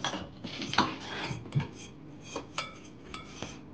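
A utensil scrapes and clinks against a metal pot in irregular strokes, close by, with soft sizzling in the background.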